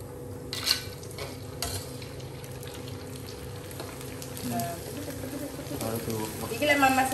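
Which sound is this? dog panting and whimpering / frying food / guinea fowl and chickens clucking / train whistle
frying food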